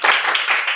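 Audience clapping in a classroom-style session, a short dense burst of many hands applauding, fairly loud and close, lasting under a second.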